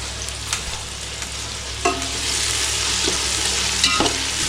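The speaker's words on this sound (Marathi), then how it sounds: "हा कांदा बिंदा व्यवस्थित भाजत असेल तर किती छान वाटत ना हो" Onions sizzle in a pan for veg pulao, a steady close frying hiss broken by a few scraping stirs of the spoon.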